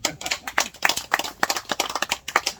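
Audience members at a grape-growing lecture clap together in a loose, rhythmic burst of sharp, close hand claps, with no speech over them.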